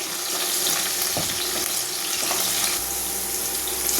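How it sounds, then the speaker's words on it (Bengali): Potatoes frying lightly in a pan for a vegetable curry give a steady, close sizzle with a broad hiss and a few soft clinks. No one speaks. "আলুটা আমার হালকা হালকা ভাজা হয়ে গেছে।"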